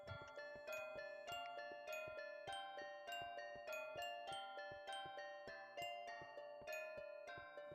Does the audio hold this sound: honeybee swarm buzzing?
no